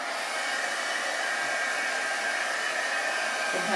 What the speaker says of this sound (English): we'll hit that with the heat gun